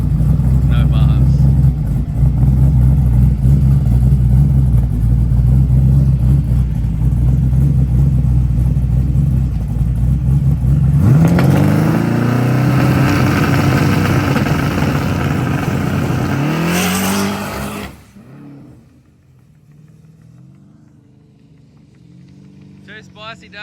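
A twin turbo drag car engine revving on passes, a loud, close, sustained roar with rising and falling pitch sweeps that cuts off abruptly and leaves a quieter rumble, with voices talking through it.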